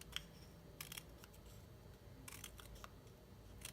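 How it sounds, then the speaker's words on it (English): Paper snips cut cardstock scrap into a fringe in a handful of quick, faint, close snipping clusters amid quiet room noise. "take your paper snips and just snip up"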